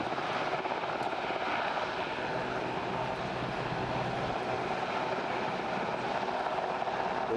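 A Westland Sea King HAR3 rescue helicopter at an air festival, heard as a steady, loud, broadband rotor and engine roar that holds without a break from start to finish, with no voices over it.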